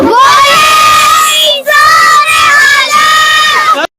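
A crowd at a school sports fair at Govt Boys High School, Simbal Camp, roars a Sikh jaikara war cry in loud, sustained unison, two long swelling shouts broken by a brief dip, with no separate talking.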